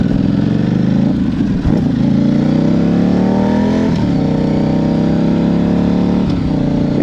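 A 2009 Buell 1125R motorcycle being ridden, its engine droning steadily and loudly close by, with pitch rising and shifting through gear changes.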